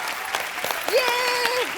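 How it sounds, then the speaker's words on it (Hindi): A studio audience claps for a children's dance performance on a comedy show, a short burst of applause with voices and tonal sounds over it. "जोरदार तालियां यार बच्चों के लिए"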